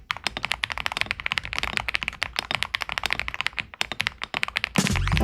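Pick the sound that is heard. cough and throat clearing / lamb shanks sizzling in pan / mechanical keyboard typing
mechanical keyboard typing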